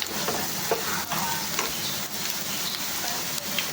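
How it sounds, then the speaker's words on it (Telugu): Onions and curry leaves sizzle and fry in a pan while being stirred for prawns masala gravy, a steady close crackle with scattered scraping clicks of the spoon and no talking. "మాడిపోకుండా కొద్దిగా దాన్ని కలుపుతూ ఉండండి. ఈ టైంలో నేను కరివేపాకు వేసేసుకుంటున్నాను."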